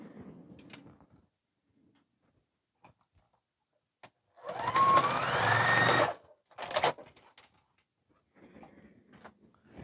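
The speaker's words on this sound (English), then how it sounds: "I'm going to stitch it now." A sewing machine stitches a zipper onto fabric in one close, steady burst of rapid whirring, followed by short handling clicks and soft rustling in a quiet room.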